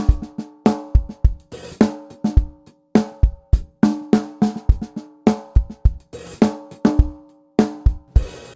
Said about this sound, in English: and if you want to make it really tight,